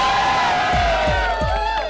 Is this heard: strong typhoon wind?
no